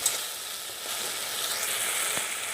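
Onions frying in oil in a pan for a fish gravy with raisins, a steady bright sizzle with faint crackles, close and unbroken, no voices.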